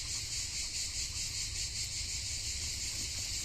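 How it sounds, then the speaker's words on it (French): Crickets and cicadas chirping steadily outdoors, a dense continuous high-pitched trill holding level throughout with a low background hum beneath and no voices. "Écoutez le bruit, là, des grillons,"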